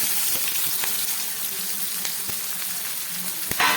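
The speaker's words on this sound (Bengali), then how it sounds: "এবারে দিয়ে দিচ্ছি কেটে রাখা পেঁয়াজ" Chopped onion dropped into hot oil with bay leaves, dried red chilli and white cumin, giving a strong close steady sizzle with a few sharp crackles and stirring clicks, no voices.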